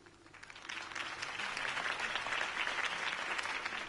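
A video game crowd applauds and cheers steadily, swelling after the first half second and continuing at even strength.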